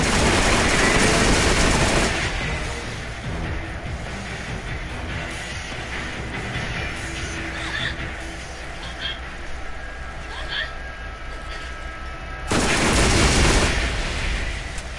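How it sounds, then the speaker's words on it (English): Tsunami SMG firing in Borderlands, a loud rapid automatic burst at the start and another near the end, with quieter game sound between them. "I'm sure there's better SMGs in the game besides the Tsunami"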